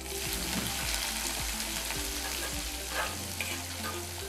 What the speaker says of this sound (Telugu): నెక్స్ట్ నెక్స్ట్ మనం తరి పెట్టుకున్న ఉల్లిపాయలు వేసుకుందాం.